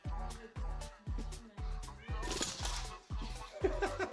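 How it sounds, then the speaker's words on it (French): A cat meowing in a room at night, a series of short, fairly loud cries in a steady rhythm, close by, with brief bursts of noise partway through. "C'est le chat."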